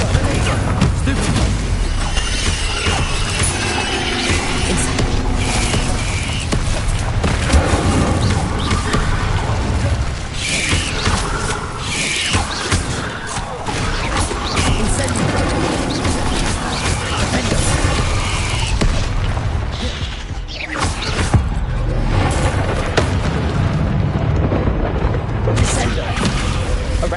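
In the Hogwarts Legacy video game, spells such as Incendio and Confringo set off explosions. Dense booms and crashes overlap with game music and combat effects, with a voice calling out spell names over the din.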